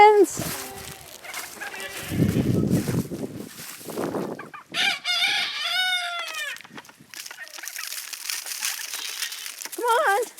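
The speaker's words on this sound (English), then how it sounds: "Come on, chickens!" Backyard chickens clucking and calling in short bursts, with a rustling crinkle partway through and a brief crow-like call near the end, fairly close.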